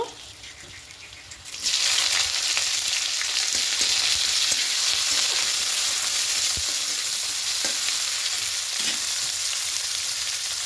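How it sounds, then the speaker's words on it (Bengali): Garlic and chopped onion fry in a pan, starting as a quieter sizzle that jumps to a loud, steady hiss around two seconds in and keeps crackling evenly, with occasional faint stirring scrapes. "একটু রসুনটা লাল করে ভাজবো। এবার এখানে পেঁয়াজ কুচি দেব।"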